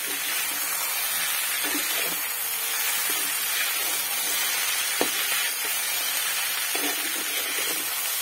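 Mixed winter vegetables with peas sizzle steadily as they fry in a pan, with faint scraping and clinks from stirring breaking through the constant hiss.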